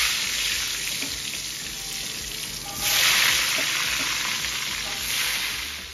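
Potatoes for a meat curry fry in a pan, with a continuous loud sizzle and periodic stirring scrapes that swell briefly partway through, and no voices heard.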